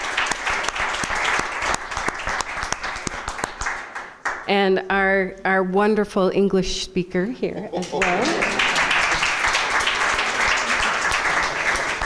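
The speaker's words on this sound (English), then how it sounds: "Let's give him a round of applause." An audience at a Sierra Club gathering applauds a volunteer translator: dense clapping at the start, a pause while someone speaks, then a second sustained round of applause to the end.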